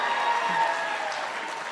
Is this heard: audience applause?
yes